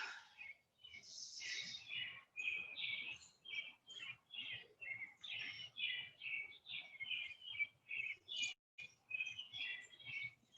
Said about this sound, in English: Stand here and just listen to the birds all morning.